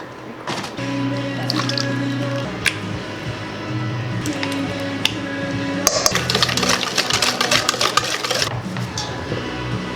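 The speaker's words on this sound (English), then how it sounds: "let me mix in my wet stuff with my dry stuff" Wet ingredients with honey and sugar are stirred into dry muffin ingredients in a bowl, giving a steady run of close, wet squishing and clicking spoon sounds that grow busier and louder toward the end, with no talking.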